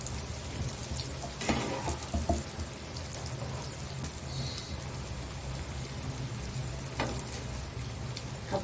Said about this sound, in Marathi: आपण हे सगळे तळून घेऊया।